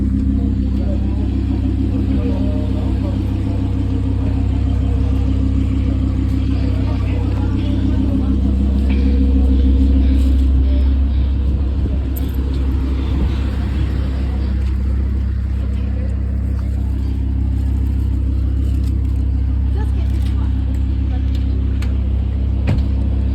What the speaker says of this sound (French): Ford Mustang cabriolet les gars.